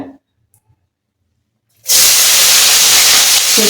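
After a brief quiet start, a loud sudden hiss erupts and holds steady as onions are dropped into very hot oil, sizzling close up.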